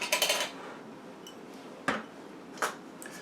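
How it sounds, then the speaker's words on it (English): A glass mason jar being opened for quick pickled red onions, with a quick run of rattling metal-and-glass clinks at first, then two separate sharp knocks, close by and with no talking. "Open up your mason jar."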